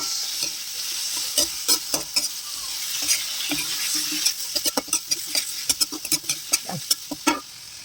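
Sweet potato leaves and sardines stirred in a frying pan over a steady sizzle, with repeated scraping and clattering strokes from a utensil against the pan, close and fairly loud.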